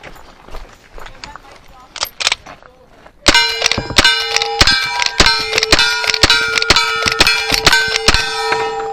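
Rapid rifle shots at a cowboy action shooting match, each crack followed by a bright ringing clang from steel targets, about a dozen in quick rhythm after a few quieter preparatory knocks, a voice briefly heard early on.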